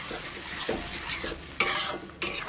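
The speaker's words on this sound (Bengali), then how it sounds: "তো মশলাটা ভালো করে কষাবো" Spice masala and potatoes sauté in a pan, giving a close, steady sizzle broken by a few loud spatula scrapes. No one speaks.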